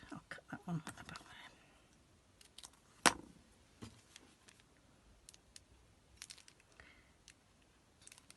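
Scissors cutting a paper flower stem for a pop-up vase card: a single crisp, close snip amid faint paper handling and light tapping, otherwise quiet.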